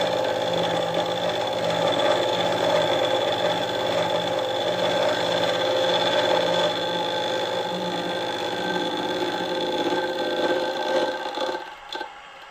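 A lathe or milling machine cutting a gear part for a 2-inch scale Fowler Showman's traction engine model, a steady loud mechanical hum with a whining tone that runs on evenly, then dips and stops near the end.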